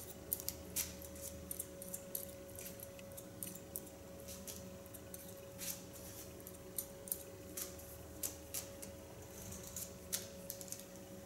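Crisp, irregular snips of scissors slice-cutting hair, small quiet clicks scattered over a faint steady hum.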